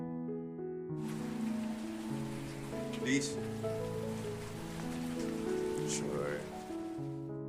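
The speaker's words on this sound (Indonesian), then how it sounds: "padahal di luar sedang hujan deras" Heavy rain pours steadily outside an office building in a film, a constant wash of hiss beneath sustained musical tones.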